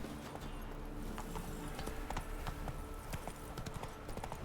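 Hooves of a horse clip-clop at a steady gallop in The Witcher 3 video game, the rapid beats continuous and fairly close under a low game ambience, with no speech.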